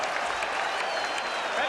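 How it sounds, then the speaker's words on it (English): Crowd at a 1980 VFL Australian rules football match between St Kilda and Essendon giving a standing ovation, steady loud applause filling the ground with a commentator's voice over the top. "Standing applause all around the ground"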